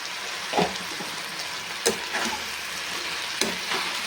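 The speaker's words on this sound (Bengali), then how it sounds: "ভালো করে নাড়তে থাকবে দেখতে পাচ্ছি বন্ধুরা তেল ছেড়ে এসেছে মানে কষানোটা হচ্ছে" Ground red chili, cumin and coriander fry in oil for a banana-flower curry, a steady close sizzle punctuated by three or four scraping stirs of a spatula in the pan, with no speech.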